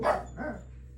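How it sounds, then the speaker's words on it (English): A dog gives two quick barks close by, the first louder and the second softer, with no other sound around them. "the dogs bark"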